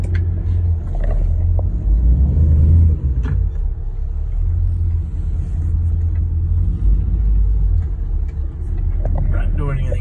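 A 1962 Chevrolet Impala fitted with an engine out of a wrecked Camaro drives at an easy pace, its low engine rumble steady under people talking inside the car.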